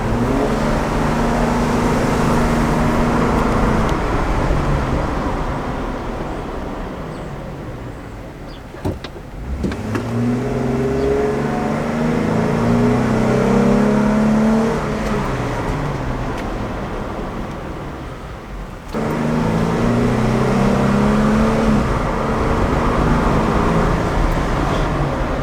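A Jeep Wrangler fitted with new Power Stop brakes drives through bedding stops, its engine and road noise rising and falling in steady cycles as it speeds up and slows, loud and close from inside the cabin.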